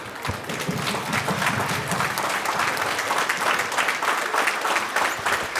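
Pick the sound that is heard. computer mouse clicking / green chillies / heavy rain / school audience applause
school audience applause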